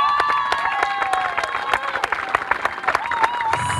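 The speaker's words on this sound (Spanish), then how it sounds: "quería un fuerte aplauso a los chicos de La Pampa" Audience applause at a polo tournament award ceremony, a steady patter of clapping with scattered whistles and voices rising through it, fairly close and lively for a few seconds.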